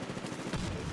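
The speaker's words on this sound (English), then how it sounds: "the explosions are nice" Explosions and gunfire in Medal of Honor Warfighter multiplayer: a dense, continuous wash of shooting with a heavier blast rumbling in midway, loud and busy throughout.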